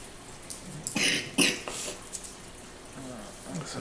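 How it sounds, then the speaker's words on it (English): A couple of harsh, nearby coughs stand out in quick succession against a low background hiss, with faint murmuring in between. "That's a bad cough"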